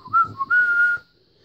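Men whistle as they work, a bright tuneful whistle in two short phrases then one longer held note, close and clear, ending abruptly into near silence.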